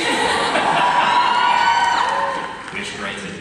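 A convention panel crowd at WonderCon 2013 for the CW series Arrow erupts in loud cheering, whoops and yells blended with applause, sustained then tapering slightly toward the end.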